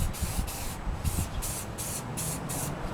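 A rattle can of primer hisses in close, regular bursts of spray as it coats a restored Yamaha FZ600 motorcycle part, each short blast separated by a brief pause.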